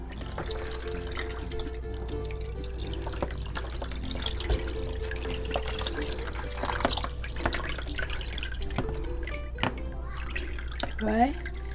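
Water runs and splashes while hair is rinsed of cold-process soap, a steady close trickle and drip with occasional splatters, and a person speaks over it.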